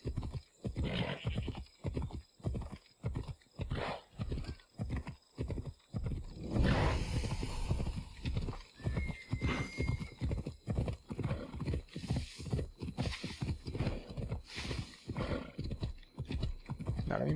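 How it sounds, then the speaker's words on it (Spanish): Hooves clip-clop in a steady rhythmic gallop as a horse is ridden in Assassin's Creed Odyssey, loud and close, with a brief whinny partway through and no pause in the hoofbeats. "Vamos a robar este caballo"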